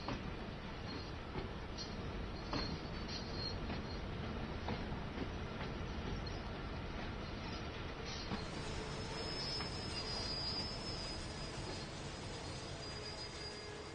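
A train runs in the video game Train Sim World 5, with a continuous loud rumble of wheels on rails, faint clickety-clack and squealing, steady throughout and alone without talking.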